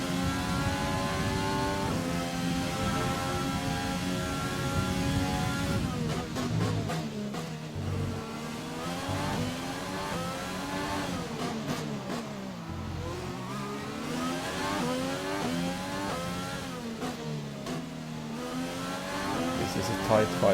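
Formula 1 race car engine in the F1 2020 video game, a loud high-pitched whine rising and falling through repeated gear shifts and downshifts, with brief tire squeal, sustained throughout.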